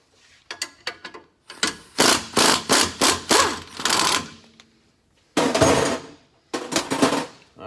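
Ratchet and impact-tool bursts loosen a 21 mm bolt on a Chevy ZR2 diesel pickup axle, heard as a series of short, loud metallic rattling runs with brief pauses between them, close up.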